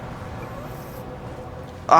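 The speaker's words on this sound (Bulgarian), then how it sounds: "не, чух гаст" A sudden, loud, shrill wailing cry from a Minecraft ghast bursts out at the very end, following a low murmur of background game noise.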